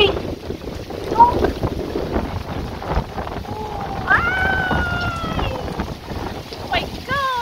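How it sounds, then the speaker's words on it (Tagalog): Strong wind gusts during heavy rain in Hungary, buffeting the microphone with a constant rough roar while a person talks over it and a tonal whine rises partway through. "grabe yung hangin. Parang bagyo sa Pinas"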